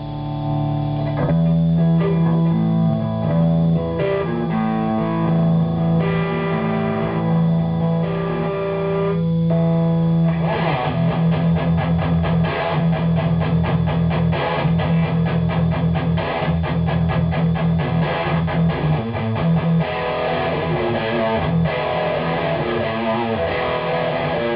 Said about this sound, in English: I'll show you a little bit of more metal type sounds where the treble's higher